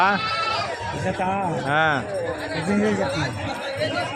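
Several Sirohi goats bleat loudly and repeatedly, wavering cries overlapping amid a busy sheep and goat market murmur in Gudur with people chattering nearby.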